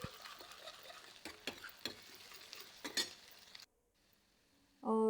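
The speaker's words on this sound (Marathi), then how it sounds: "कांदा चांगला परतून घेऊया. त्याला चांगलं ब्राऊन होऊ द्या." Onions fry and sizzle in a pan for pav bhaji while a spoon stirs them with scraping clinks, followed by a short quiet pause and a final louder burst.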